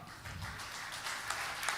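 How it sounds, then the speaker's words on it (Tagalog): A church congregation at a preaching service applauds with a short burst of soft, continuous clapping that sounds somewhat distant. "Palakpak."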